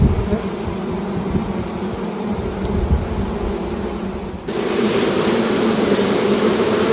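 Honey bees in an Australian bee yard hive produce a dense, continuous buzzing hum, close and steady throughout, growing slightly fuller and louder midway as the swarm noise swells.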